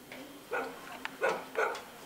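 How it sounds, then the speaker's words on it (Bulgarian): Dogs barking in a rural Bulgarian village setting, three short barks in quick succession at moderate distance, with no talk over them. "Ей, на, кучетата се разлаява."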